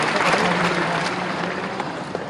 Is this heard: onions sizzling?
no